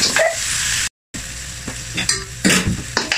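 Garlic and onion frying for chicken and liver adobo, a bright continuous sizzle with scattered scraping and clinks of a spatula, briefly cut to silence near one second before the frying resumes.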